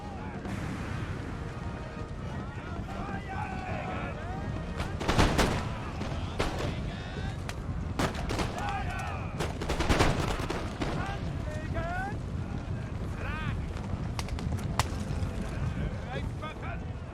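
Massed musket volleys from troops in Empire: Total War, dense crackling fire and booming reports layered over continuous battlefield din, with several louder bursts mid-way.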